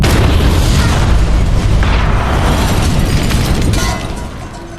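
A massive movie explosion booms inside a building, a loud, sustained low roar with crackling debris that rumbles on for several seconds before slowly fading.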